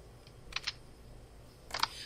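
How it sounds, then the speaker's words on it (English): A computer keyboard is typed on in two quick clusters of faint clicking keystrokes, near but quiet, separated by a pause of soft room noise and no speech. "I don't mean to be typing while I'm on my podcast."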